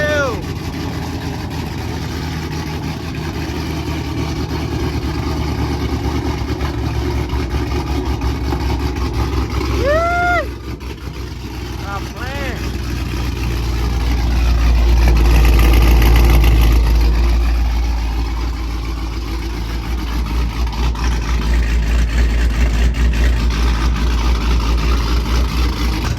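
A car engine runs loud and steady, swelling into a deeper roar partway through, with a few chirping squeaks and occasional voices nearby.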